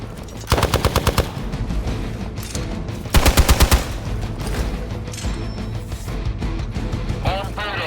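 Rapid bursts of automatic gunfire in Marvel Midnight Suns, two loud rattling volleys amid a dense background of game sounds and music, close and punchy.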